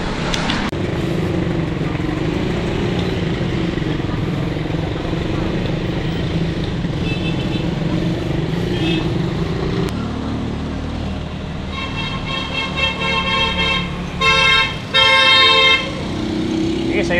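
Busy road traffic with cars, trucks, buses and motorcycles rumbling steadily, then several short car horn toots near the end; someone talks over the noise from a bicycle ride.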